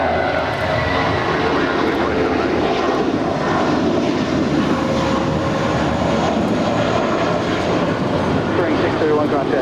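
A JetBlue airliner lands on runway 25 left at LAX, a steady, loud broadband jet roar that fills the whole stretch without pause, with no clear talk over it.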